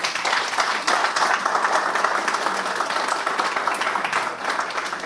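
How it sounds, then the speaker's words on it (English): An audience at a live podcast recording on stage claps and applauds steadily, a dense, fairly loud wash of many hands, with voices faintly audible under it. "The applause sounds good in a podcast"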